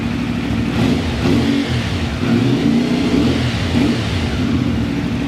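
A 2024 CF Moto 450 MT motorcycle engine revs nearby, rising and falling in a steady, loud mid-range growl throughout, with no talk.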